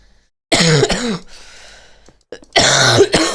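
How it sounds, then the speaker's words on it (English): Two hard, close coughing bursts from one person, each a loud rough fit of several hacking coughs, separated by a quieter pause with faint breathing. "At least the cough's improving."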